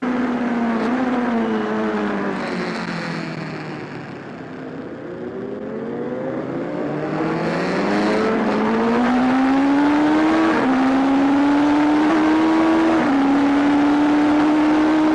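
Motorcycle engine recorded onboard during riding, the revs dropping steeply on corner entry and then climbing again through a series of upshifts, loud and continuous with no talking.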